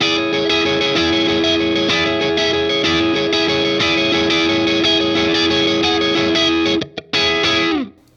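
Loud electric guitar strumming from a song, drenched in distortion and chorus, dense and continuous, ending with a couple of choppy hits and a fading chord.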